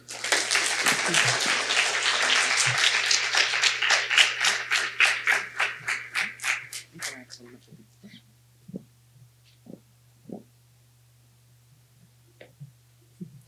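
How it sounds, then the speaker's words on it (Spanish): Loud, dense applause from an audience at a science lecture that gradually thins into rhythmic clapping, then fades to a few scattered claps over a low steady hum. "Les pido un fuerte aplauso, por favor"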